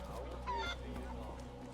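Chicken clucking from Assassin's Creed 3 Liberation, set in a bayou, a short run of nasal, honking squawks with one brief louder burst over steady low game ambience.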